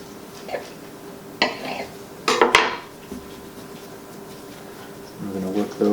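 A knife cuts through pizza dough for New York style pizza on a work surface, with a few sharp knocks and scrapes against the board amid quiet background and faint handling noise.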